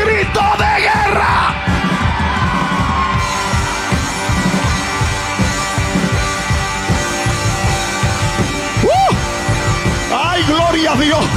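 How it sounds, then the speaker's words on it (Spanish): A church congregation roars a collective war cry during a sermon, a dense, sustained wall of yelling and whooping voices, loud and close, with shouting swelling throughout. "¿Alguien dé un grito de guerra?"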